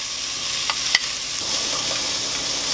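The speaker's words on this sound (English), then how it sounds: "Grab a pot, put in your onions." Onions frying in a pot give a loud, steady sizzle with a couple of brief stirring scrapes, close up and without voices.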